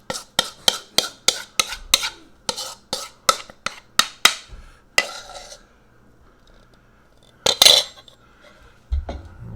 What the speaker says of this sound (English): let's get our wet dough scooped into this